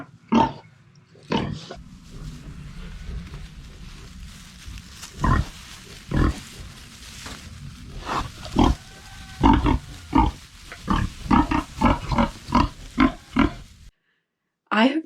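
Newborn piglets and their mother sow on a farm grunt and squeal in short repeated bursts, close and fairly loud, with a person talking over them in places.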